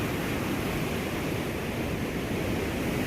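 Heavy water rushes through an open dam gate and pours down in a steady, dense roar that fills the whole stretch without pause, loud and close, with no talking over it.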